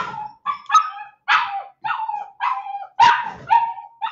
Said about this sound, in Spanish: el perro no me deja y tengo que cerrar el taller porque el perrito está insoportable